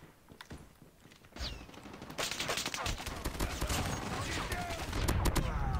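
Rapid automatic gunfire in the multiplayer shooter COD Mobile, bursts of sharp shots building into sustained fire over in-game effects and background game noise.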